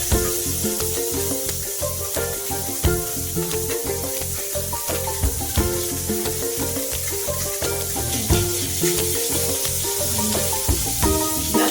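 Pieces of mourala fish fry in a little extra oil in a pan for a sour Bengali tok, a dense continuous sizzle with faint spattering and a few light clinks, close up and without talk.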